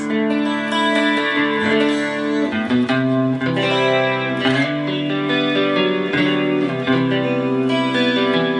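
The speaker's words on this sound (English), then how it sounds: "you can hear that reverb and a little bit of chorus" Clean electric guitar strums major and minor seventh chords, washed in reverb with a gentle shimmering chorus, steady and full throughout.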